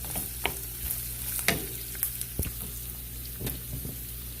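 Already-browned ground pork with bouillon cubes sizzles in a pan for a green bean stir-fry, a soft continuous frying hiss punctuated by several distinct spatula knocks and scrapes close by.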